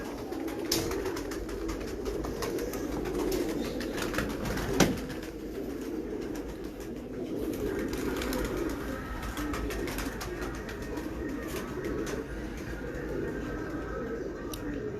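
Sialkoti pigeons cooing steadily in a loft, a continuous low warbling murmur from several birds close by, with a brief sharp knock partway through and faint chirps above.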